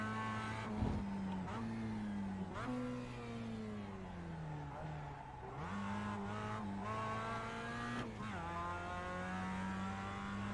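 A race car in the video game iRacing slides on cold tires, its engine droning and shifting pitch through several swells, with faint scrubbing and no one talking.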